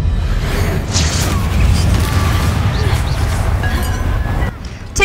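Depulso force spell cast in the Hogwarts Legacy video game: a loud, booming burst that swells within continuous noisy combat sound, ending in a short drop.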